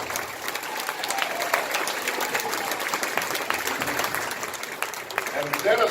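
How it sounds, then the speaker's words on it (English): Sustained audience applause fills an amateur musical variety show at a manor revue, dense clapping from a crowd with some voices mixed in, steady and fairly loud throughout. "Cliff Adolf and his partner, Dolly, need a big round of applause."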